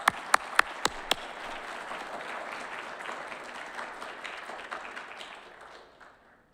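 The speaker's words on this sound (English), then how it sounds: "Sam, give it up a round of applause for Sam." Audience applause for an Eagle Scout at a Boy Scout court of honor, opening with a few sharp individual claps then a dense, steady crowd clapping that fades out over the last seconds.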